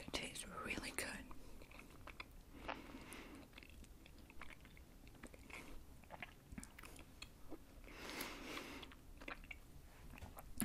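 Soft, sour candy being chewed right up close, with quiet wet chewing and squishy mouth sounds that continue through the whole stretch, among soft whispery breaths.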